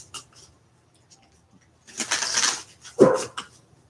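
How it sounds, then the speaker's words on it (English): Dogs bark outside, a few muffled, distant-sounding barks in short bursts against a quiet background. "Yes, there are dogs barking outside."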